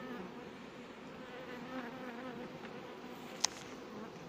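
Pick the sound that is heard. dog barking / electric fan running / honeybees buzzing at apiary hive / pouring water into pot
honeybees buzzing at apiary hive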